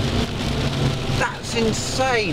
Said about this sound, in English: but it's raining so hard outside